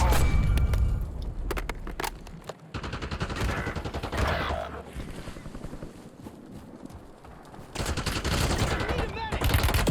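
AK-47 gunfire in Call of Duty, loud rapid automatic bursts and fusillades crackling in clusters, interspersed with quieter stretches, with players talking between the shots.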